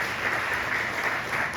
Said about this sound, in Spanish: Denle un fuerte aplauso al Señor Jesucristo.